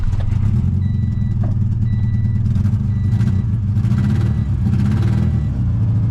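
A Honda Civic that has sat for ten years runs loudly close by, its engine rough and clattering with uneven revving and no talk over it.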